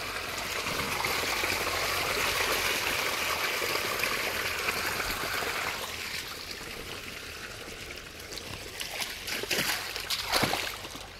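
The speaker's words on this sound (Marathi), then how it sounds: "इकडं रानात पाणी सोडलं" Water gushes and splashes steadily into a field from a pipeline, a continuous broad rushing flow that eases slightly toward the end, with a few louder splatters near the close.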